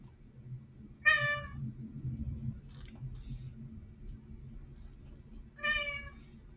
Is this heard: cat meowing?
yes